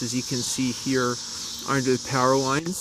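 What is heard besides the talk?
crickets chirping on a warm evening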